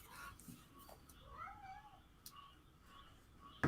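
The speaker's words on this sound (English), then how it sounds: "I hear cats." A cat meows a few times, the calls rising and falling in pitch at a moderate distance indoors, over a faint room background.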